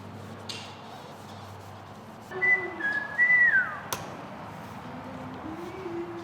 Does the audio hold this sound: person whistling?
yes